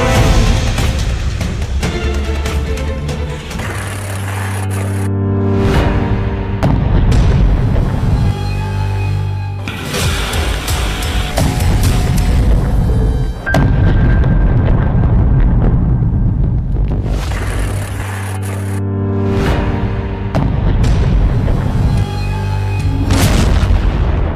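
Repeated booming explosions with deep rumbling tails, several heavy blasts recurring over about twenty-four seconds with brief quieter gaps between them.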